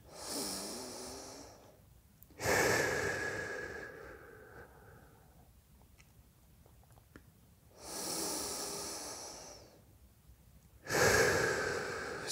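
Slow, deep breaths during a pigeon hip stretch: long airy exhales alternating with quieter inhales, about four cycles, close and fairly soft.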